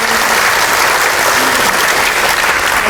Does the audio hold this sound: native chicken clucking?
no